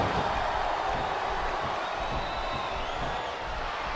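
Capacity arena crowd in the WWE SmackDown vs Raw 2007 wrestling game, a continuous roaring wash of massed voices at moderate level, steady throughout with no distinct chant rhythm.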